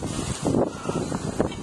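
Strong wind in a New York City snowstorm buffets the microphone in low, uneven rumbling gusts, swelling and easing over a second or two with no voices.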